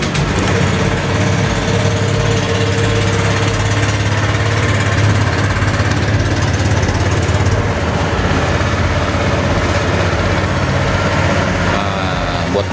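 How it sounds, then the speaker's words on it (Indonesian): A Honda Vario scooter engine runs steadily and loudly close by, a continuous smooth hum with no breaks or stutters throughout. "buat mesinnya aman ya, suaranya halus"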